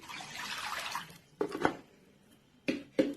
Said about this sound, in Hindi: जो मैंने हाफ कप पानी लिया था वो ऐड कर रही हूँ